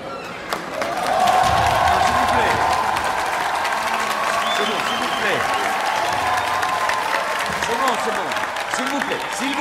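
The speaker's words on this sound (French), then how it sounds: "ça n'est pas parce que vous m'applaudissez que vous aurez une meilleure note" Students applauding a teacher in a classroom, a loud burst of mixed clapping and crowd noise that swells quickly and carries on steadily with chatter and voices underneath.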